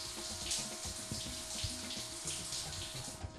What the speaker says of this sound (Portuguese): Dá até pra você ouvir o barulho porque o chuveiro tá ligado.